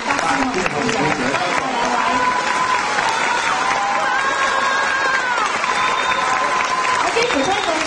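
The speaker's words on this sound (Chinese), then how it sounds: "我们再次热烈的掌声" Theatre audience applauding at a Cantonese opera performance, a dense, steady roar of clapping across a large crowd, loud and continuous throughout with faint cheering mixed in.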